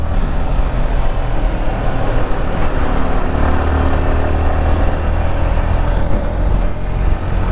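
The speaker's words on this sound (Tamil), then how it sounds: "இருந்தாலுமே சவுண்டு வருதுங்க. செயின் லூஸ் ஆயிடுச்சு, டைட் பண்ணணும்" A motorcycle with a loose chain is ridden along, making a loud, continuous, rough engine and road roar close up, with no break throughout.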